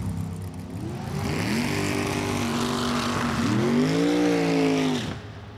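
Pair of dragsters, each powered by 600-plus-cubic-inch big-block Chevrolet engines, roar down the strip at a spring drag race, loud rising engine tones climbing in pitch with a steady dense roar that cuts off abruptly near the end.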